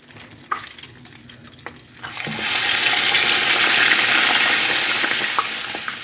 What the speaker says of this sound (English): now I'm going to fry this shrimp. It is just frozen butterfly shrimp.